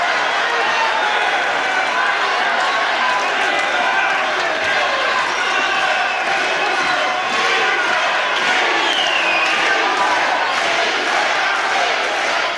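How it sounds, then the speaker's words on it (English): A 1970s UK professional wrestling crowd roars and cheers continuously through a bout, loud, dense and sustained, with excited shouts rising out of the din. "you can hear whose side the crowd's on"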